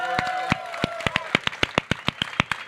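A few people clapping for an audience at a Spider-Man PS4 interview, sharp separate claps in an uneven rhythm, close and fairly loud, while someone speaks softly at the start.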